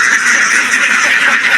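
A flock of farm ducks quacks continuously near a pond, dense overlapping calls close and loud.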